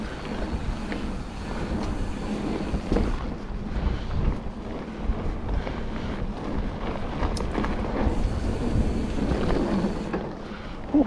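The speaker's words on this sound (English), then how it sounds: "Super windy." Strong wind blowing at a mountain bike park in Asheville, North Carolina, buffeting the microphone in loud, continuous rushing gusts that swell and ease for the whole stretch.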